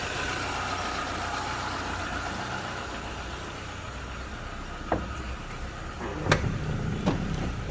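A used automatic sedan's engine idles smoothly and steadily, a low continuous hum throughout, with a few brief louder clicks and knocks near the end and no talk.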